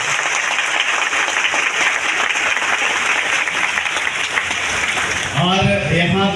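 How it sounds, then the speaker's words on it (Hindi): Loud, dense applause from a crowd at a DXN mega event in Latehar, Jharkhand, sustained for several seconds before a voice begins speaking near the end. "आप सभी के लिए एक जोरदार ताली होना चाहिए"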